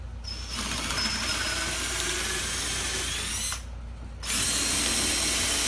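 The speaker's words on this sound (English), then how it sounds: "Drill them out." A cordless drill with a 3/8 bit whirs steadily at high speed drilling out stripped door hinge screws, pauses for a moment, then spins up again, loud and close with no talking.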